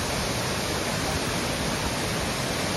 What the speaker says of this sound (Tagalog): Beautiful falls.